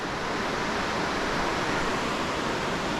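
Rushing creek water near a trail bridge roars as a steady, loud broadband wash with no pauses and no voices.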